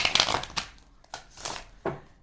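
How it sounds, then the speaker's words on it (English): Playing cards being shuffled: a few quick papery riffles and slaps in bursts, close up and fairly quiet, with no talking. "There's a shuffle."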